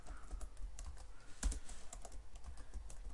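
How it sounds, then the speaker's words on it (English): Close, quiet clatter of a computer keyboard as a nickname is typed, irregular keystrokes in short bursts with one louder press, no voices. "This thing is so annoying, it doesn't always pick up my keystrokes"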